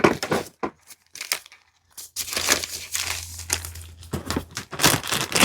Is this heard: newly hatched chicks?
no